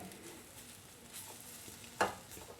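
Spice powders sauté in oil in a pan over a medium flame, with a faint, soft sizzle, light stirring scrapes and one sharper clink of the spoon near the end.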